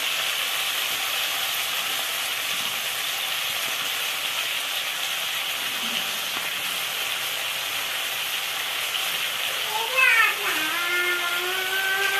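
Curry leaves sizzle in a pan for a mint and coriander chutney, a steady hiss running throughout with a brief louder flare near the end, heard on its own without talk.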